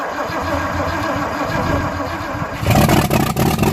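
An engine on a vehicle being revived turns over after its fuel pump is switched on. A steady cranking drone catches partway through and swells into a louder, rougher running roar close by.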